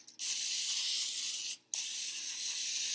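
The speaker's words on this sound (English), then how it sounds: "I'm just going to do a little bit more cooking spray directly on the cauliflower" Two close, loud bursts of aerosol cooking spray hissing onto cauliflower, separated by a brief pause, with no talking.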